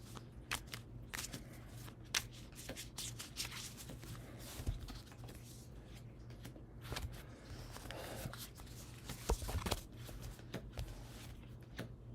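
Tarot cards being shuffled up close, a series of quick riffling bursts and soft snaps at an uneven pace, with no voices.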